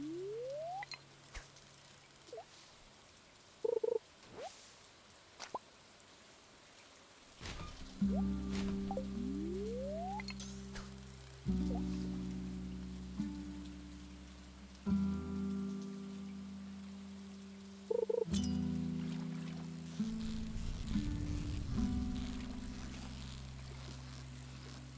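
Gentle rain patters steadily in the farming video game Stardew Valley, a soft continuous backdrop under game music and brief chimes, with no talking.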